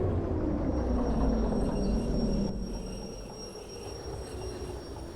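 A train in the Derail Valley railway game gives a continuous rumble of rolling wheels and faint high squeals, loud at first and then settling lower, with no voices over it.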